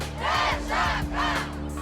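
An angry crowd of protesters shouts in rhythmic chanted bursts, demanding that a police officer's privileged godson be handed over. There are three loud, surging waves of massed voices over a low rumble.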